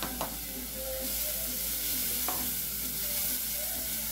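Chopped onion sizzles and fries steadily in a hot pan while a utensil stirs it, with a couple of sharp scraping stirs standing out over the continuous close hiss; no talk.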